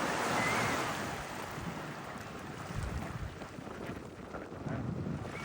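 Ocean waves roll in steadily at Waikiki beach, a broad continuous surf wash with wind rumble and no voices.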